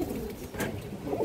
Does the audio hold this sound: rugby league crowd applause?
no